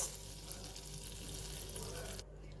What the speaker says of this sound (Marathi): आता जिरं जरा परतून घेणार आहे